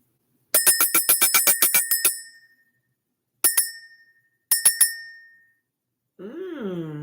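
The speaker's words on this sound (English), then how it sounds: "Let's ring the bell." A small bell rung to clear energy: a rapid run of about a dozen bright metallic rings, then two separate single strikes each left to fade, followed by a voice speaking.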